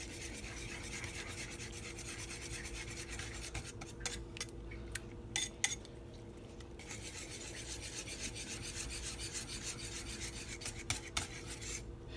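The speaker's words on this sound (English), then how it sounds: "So now you're going to want to gently mix your mixture together to get all those flavors married" A whisk gently mixing a custard base of condensed and evaporated milk in a bowl gives a steady, continuous rasping scrape that runs close and fairly quiet throughout, with no talking.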